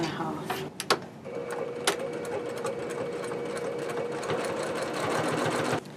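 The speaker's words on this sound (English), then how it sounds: "my top stitching is about 1/8 inch from the edge of the fold" A sewing machine top stitches along the folded edge of a bag's inside pocket, running in a steady close whirring hum after a few clicks, with someone speaking over it.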